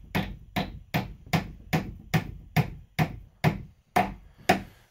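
A hammer drives a nail, held steady with pliers, into wood: about eleven sharp, evenly spaced blows, close and clear, with no talk.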